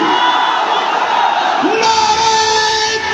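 A large religious gathering answers in unison with a loud, sustained chanted slogan, massed voices rising together in a long held shout, then a second wave of voices joining with a sustained tone.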